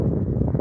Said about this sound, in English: It's a little windy. I do apologize, y'all. But I'll be out of this wind in a second.